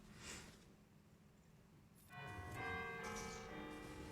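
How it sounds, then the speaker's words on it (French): Bells ring in a video game during a 3v3 arena match. The tone is quiet and distant, with bright sustained peals that swell in about halfway through and keep ringing to the end. "Les cloches qui sonnent pour lui, nickel."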